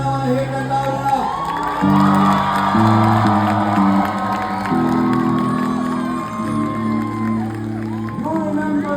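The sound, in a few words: festival audience applauding and cheering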